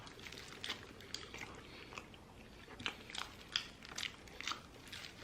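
Close, crisp bites and chewing of a Krispy doughnut spread with Nutella, with soft crunchy bursts repeating irregularly over a quiet room and no talk.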